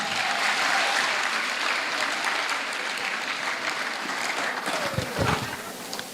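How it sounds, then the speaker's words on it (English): Audience applause at a primary school graduation ceremony, a sustained crowd of clapping hands that stays loud and steady, with a few voices and scattered cheers rising near the end. "Give them a round of applause again for me."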